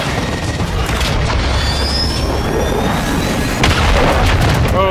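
Heavy fire-support strike explosions in Call of Duty Modern Warfare 3 hardcore domination: a sustained, dense rumble of booms and blasts over about five seconds, with a louder surge near the end.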